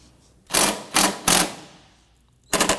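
On a 2003-2014 Volvo XC90 front strut, the nut being undone gives three quick, loud rattling mechanical bursts close together, then a pause and a fourth burst.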